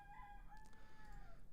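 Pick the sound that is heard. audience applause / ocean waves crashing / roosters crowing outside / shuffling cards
roosters crowing outside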